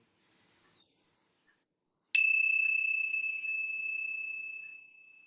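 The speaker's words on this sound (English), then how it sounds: "let's close our time with the ringing of the bells." A single bell is struck once during a closing meditation, ringing out with a bright clear tone that sustains and slowly fades for several seconds, following a faint softer chime just before.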